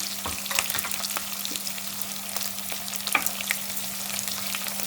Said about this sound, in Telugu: మన బెండకాయని కూడా ఒక 2 మినిట్స్ మగ్గనిద్దాము.